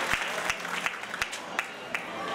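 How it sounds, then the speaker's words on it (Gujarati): Applause at a community Sneh Milan gathering in Badargadh, a steady bed of crowd clapping heard from a distance with a few sharper, closer claps standing out. "જોરદાર તાળીઓથી બનાવજો"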